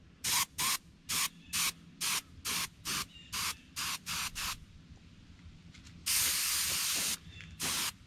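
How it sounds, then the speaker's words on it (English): A spray gun hisses chrome pearl paint onto a replica fish in a rapid series of short even bursts, followed by one longer continuous spray and a final brief burst, close and clear. "Now I spray a little chrome pearl along the bottom half of the fish."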